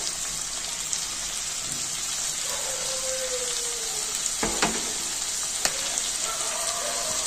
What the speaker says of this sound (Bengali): কাঁচা লঙ্কা চেরানো দিয়ে দিলাম। একটু নেড়ে ছেড়ে ভেজে নেব।